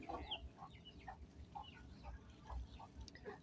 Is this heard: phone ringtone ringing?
no